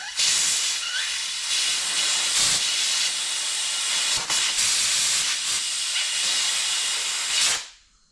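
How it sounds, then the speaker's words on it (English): Compressed air blasts up into a BSA Bantam Sellicks Beach racer with a fibreglass body, a loud steady hiss running continuously for about seven seconds with brief dips, then cutting off abruptly. "I'm going to try and shot a bit of compressed air up there"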